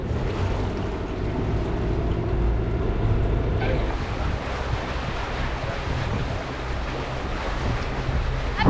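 Sailboat beating upwind at about six knots through waves off the Bahamas: steady rushing water and splashing hull wash mixed with gusty wind buffeting the microphone, continuous and close, with no talking.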